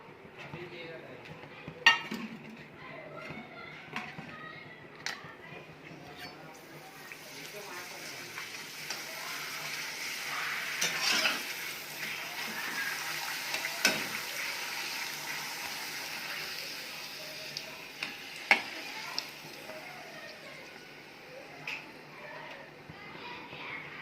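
Sun-dried urad dal papad fry in hot oil with a soft, continuous sizzle and bubbling, while occasional sharp clicks and taps of utensils against the pan break through over about twenty-four seconds.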